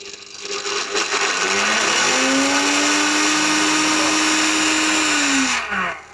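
Electric blender on its ice-crush setting, switched on in an electronics bazaar in Lahore, roaring loudly and steadily with a rising whine as the motor spins up, then cutting off after about five seconds, with no talk.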